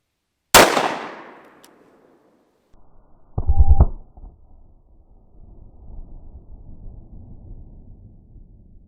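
A single sharp .45 ACP Critical Defense round is fired into a gel block at close range, a loud crack with a decaying tail, then a later thump and faint handling sounds.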